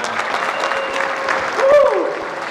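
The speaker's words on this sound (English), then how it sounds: "Give us another round of applause." An audience at a live talk claps in a dense, sustained burst of applause, with a voice calling out over the clapping near its peak.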